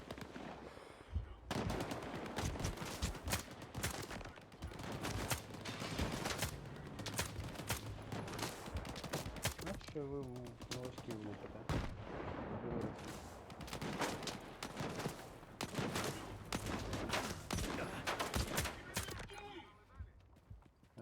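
Rapid automatic gunfire and bursts of shooting in the game S.T.A.L.K.E.R. 2: Heart of Chornobyl, dense and continuous throughout, with heavy low rumble and a few explosive hits.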